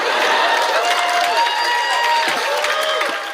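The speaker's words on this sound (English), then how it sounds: "hold for applause" A large commencement audience breaks into sustained applause and cheering, a dense, loud wash of clapping with whoops rising over it, carrying without pause from start to finish.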